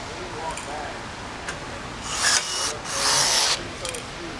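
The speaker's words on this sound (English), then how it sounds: "Before you fully compress the rivet" Rivets being compressed while fitting a roof rack onto a Polaris Ranger XP 1000 Crew: two bursts of harsh, broadband grinding and rasping, each about a second long, stand out from a quiet background with faint scattered clicks.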